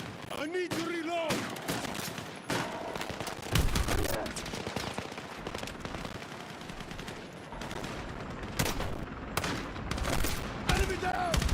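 Battlefield 6 gunfire crackles in dense, rapid bursts and scattered single shots throughout, mixed with explosions and battle noise, while voices shout over the combat.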